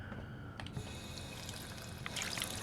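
Running water from a tap in the Fallout 4 video game, a soft steady splashing trickle with a few faint clinks, quiet and continuous throughout.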